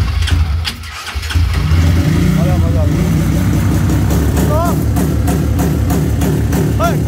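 A Honda Titan 222cc motorcycle with a 67x63 piston and programmable module, its engine running loud and close and revving up repeatedly, while voices talk over it.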